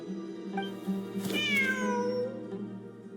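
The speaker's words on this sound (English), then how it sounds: "Wait, there it is! The cat!" A cat meows in the Genshin Impact game, one drawn-out, rising and falling meow over a steady low ambient music drone, with a couple of softer short mews before it.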